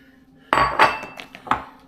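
Cubed pieces of whole salmon fillet dropped into a dish, a close clatter of dish and utensil at the start followed by a few lighter clinks and knocks, with no talking.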